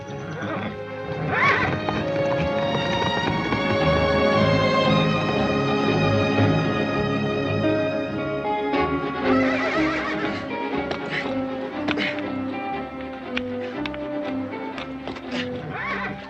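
A horse whinnies loudly near the start, then hooves clop and shuffle with scattered knocks, all under a steady music-like tonal backdrop.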